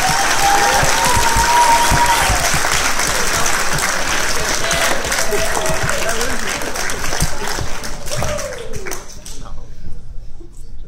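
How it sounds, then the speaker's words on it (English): Graduation ceremony audience applauding the organizing committee, sustained loud clapping from a large crowd that holds steady, then thins and fades near the end, with some voices mixed in. "a round of applause for the entire organizing committee that made tonight possible"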